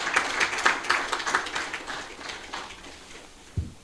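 Audience at a conference closing ceremony applauding, a thin, fairly faint patter of scattered claps that fades out over a few seconds.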